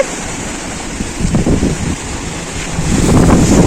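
Gusty wind ahead of an approaching thunderstorm roars and rushes against the microphone in a steady broadband blast, swelling louder toward the end, with no voices.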